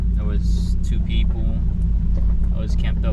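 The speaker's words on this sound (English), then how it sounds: "my car is loud" A loud car engine idles at the top of Flagpole Knob in Virginia, a steady low rumble running through the whole stretch with voices talking over it.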